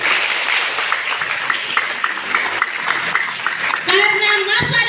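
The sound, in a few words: audience applause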